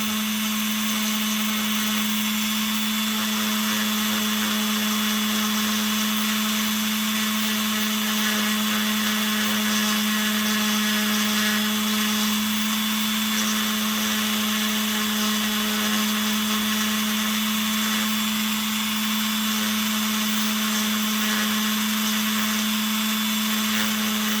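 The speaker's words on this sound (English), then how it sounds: "And if you never use the Dremel to do this, just practice on a couple" Dremel rotary tool etching blue paint off a wood round, a loud constant high-pitched whine with a grinding hiss that runs without a break for over twenty seconds.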